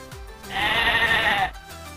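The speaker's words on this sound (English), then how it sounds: "sheep," A lone sheep bleats once, a loud wavering call of roughly one second, heard close and clear above faint music.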